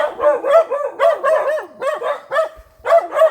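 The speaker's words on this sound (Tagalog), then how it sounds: "May mga aso." Several dogs barking in quick, loud, close bursts on a mountain hiking trail on Mt Ilihan in Camiguin, the sharp yaps coming in a rapid irregular run with a brief pause near the end.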